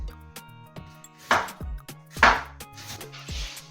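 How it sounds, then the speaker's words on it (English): Red onions and spring onions being chopped with a knife on a board, a few sharp cutting strokes standing out over faint background music, with no talking. "So we are cutting our onions and spring onions"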